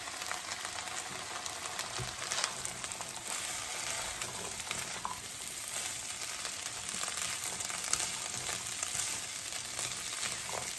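Boiled chickpeas cook in a pan for coconut rice, giving a steady, fairly quiet sizzle with faint scattered crackles throughout and no voices.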